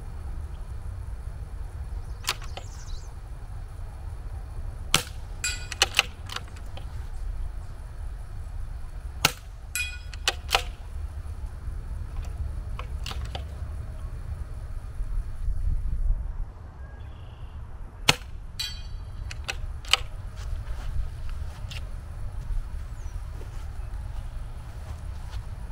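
Subsonic rimfire rifle shots fire through a CZ457 with a 24-inch EABCO barrel, a series of quiet, sharp cracks and clicks scattered irregularly across the clip, some in quick pairs, over a low steady outdoor background.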